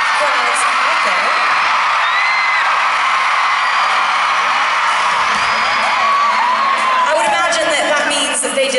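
A large Los Angeles concert crowd at Staples Center cheers and whoops in a steady, dense roar, with scattered high shouts rising over the wash of voices throughout.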